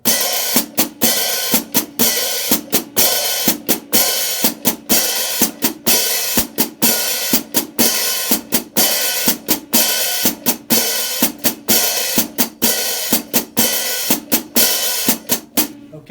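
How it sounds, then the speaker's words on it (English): A hi-hat played with the left foot pedal taps out a guiro-style pattern on a drum set, with sharp, evenly repeating chicks and short scraping sizzles in a steady loop. It is loud and close, with no talking. "this is just my left foot playing the hi-hat"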